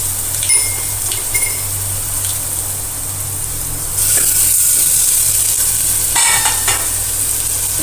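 Raw sesame seeds, asafoetida, turmeric powder and crushed garlic added to hot oil after mustard seeds pop, giving a steady close sizzle with light stirring scrapes and no talking.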